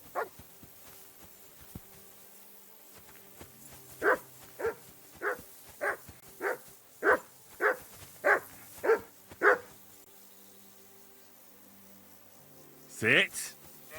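Dog in Kingdom Come Deliverance 2 barking on command: about ten evenly spaced, fairly close barks in a steady rhythm, followed by a pause and one final louder bark, over a quiet game ambience.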